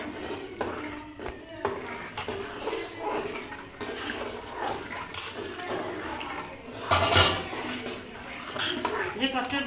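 A large pot of semiya custard made from about 10 kg of milk is stirred, its utensil clanking and scraping against the metal in steady rhythm while a voice talks over it.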